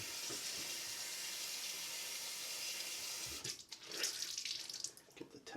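Tap water runs steadily into an upstairs bathroom sink to wet a towel, a continuous hiss for about three seconds, then broken, splashier flow as the towel goes under the stream.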